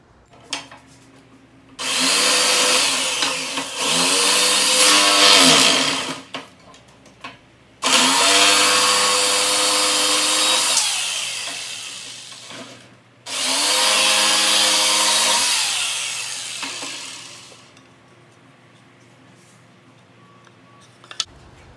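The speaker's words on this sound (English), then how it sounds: "I'm going to use the skill saw and cut those out" A circular saw cuts wooden pumpkin stem pieces in three long, loud bursts of whining motor noise. The pitch dips as the blade bites into the wood, with short pauses between cuts and no talking.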